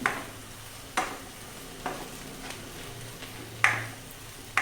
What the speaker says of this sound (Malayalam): ഇനി നമ്മൾ അതൊരു സേവിങ് ഡിഷിലോട്ട് മാറ്റുക.